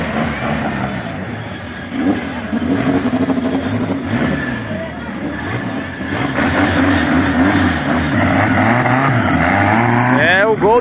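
A high-power drag car of over 1000 hp launches down a no-prep strip, its loud engine roaring steadily and climbing in pitch near the end, with someone talking excitedly over it.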